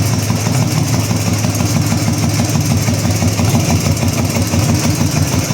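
A Ural motorcycle engine idles close by, a steady, loud, even rumble with a rapid pulsing beat throughout and no other sounds.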